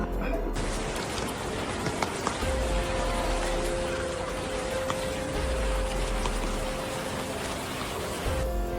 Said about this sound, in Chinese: 武汉外面下大雨，武汉人民医院内部下小雨。